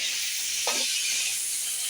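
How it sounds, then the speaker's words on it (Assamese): Pork frying in oil with onion, ginger, garlic and coriander: a continuous bright hiss and sizzle with one brief soft clatter partway through, close up and steady. "পিঁয়াজ, আদা, ৰচুন, ধনিয়া এইবোৰ তেল দি ঠিক ঠাক কৰি লৈছোঁ আৰু এইখিনি ভাজি বনাইছোঁ।"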